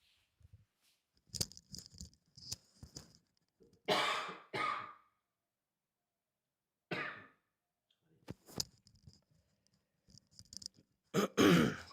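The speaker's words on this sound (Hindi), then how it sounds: "सर्दी से थोड़ी खांसी आ गई" Several coughs and throat clearings from a person with a cold, scattered in short bursts across a quiet room with long silent gaps, fairly close and moderately loud.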